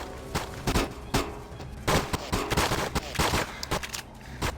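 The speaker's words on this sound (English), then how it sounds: "this guy's shooting us from range with a full auto, probably an assault rifle" Full-auto assault rifle fire in a video game shooter, rapid bursts of gunshots crackling in quick clusters at mid distance, some shots louder and nearer, with no speech.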